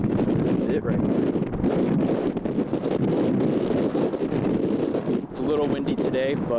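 Gusty wind whips across the open desert at the Seven Magic Mountains rock art site, roaring into the microphone in loud, unbroken buffeting throughout.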